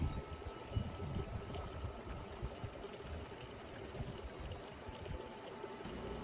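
Water pours and trickles steadily into a leaf catcher set in an inground pool, a faint, continuous stream with soft gurgling, heard alone without voices.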